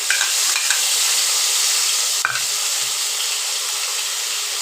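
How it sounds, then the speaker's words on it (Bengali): Pointed gourds, already fried, tumble into hot oil in a wok for a Bengali oil-jhal dish. A dense, steady sizzle fills the air, broken by a brief stirring clatter midway, with no talking. "পটলগুলো কড়াইতে দিয়ে দেবো।"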